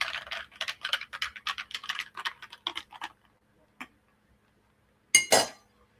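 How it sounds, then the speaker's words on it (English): A spoon stirs Kool-Aid into a glass of orangeade, giving a quick run of light clinks and scrapes, then a lone tap after a pause and a louder final clatter, close by with no talking. "Give it a nice stir."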